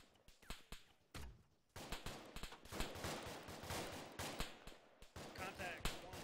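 Rapid bursts of rifle and machine-gun fire in the military shooter Arma 3, a dense fusillade of near and distant shots cracking in quick clusters, with radio-style voices talking over the firefight.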